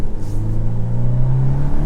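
A 300 hp VW T-Roc R pulling hard in first gear, its engine note rising steadily in pitch as revs build, loud and close throughout with no talk.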